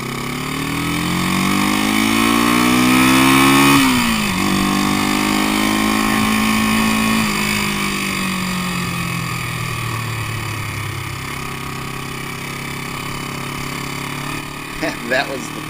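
A 1972 Honda CL350 Scrambler motorcycle engine pulls away on a ride, revving up through gears with rising and falling pitch sweeps, then settling to a steadier drone as it moves off, loud and near.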